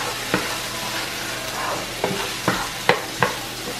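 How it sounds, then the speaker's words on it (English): A sauce stirred in a pot just after a bouillon cube goes in, with a continuous low sizzle broken by several distinct scraping, knocking spoon strokes near the end. "We are going to add in the bouillon cube. And give this like a quick stir, guys."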